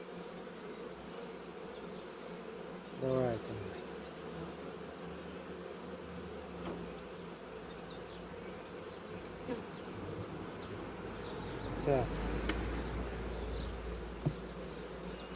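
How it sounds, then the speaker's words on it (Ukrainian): Honey bees swarm and buzz steadily at an opened hive during a spring apiary inspection, a continuous close hum with a couple of brief louder passes near the microphone and a short spoken word. "Ну, бджолки, бджолки."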